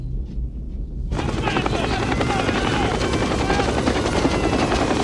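A helicopter roars in suddenly after a second of quiet and keeps thumping loud and close through the rest of the nuclear-war film scene.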